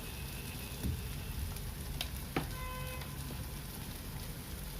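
Spice paste roasting in oil for a pumpkin (kohla) sabzi makes a faint, steady low sizzle and crackle, with a few tiny metallic clinks, quiet and continuous with no talk.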